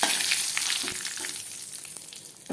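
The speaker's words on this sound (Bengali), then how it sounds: "এখন এই যে কড়াইতে আমি একটু তেল দিয়ে দিব, তেল দিয়ে দিচ্ছি, সাদা দিয়ে দিব, একটু তেজপাতা দিয়ে দিব, একটা গোটা শুকনো লঙ্কা দিব, একটু ভাজা করে নিই।" Oil sizzles and crackles steadily in a wok with bay leaf and a whole dried red chili, a close, continuous bright hiss with small pops and no voices.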